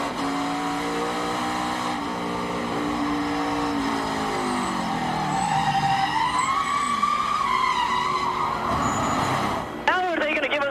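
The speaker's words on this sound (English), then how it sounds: "Austin had to spin the car out to keep from hitting him" Onboard a NASCAR Nationwide Series race car in 2012 as it spins out to avoid a wreck, the engine drones and shifts pitch while the tires squeal, with radio voices over the top.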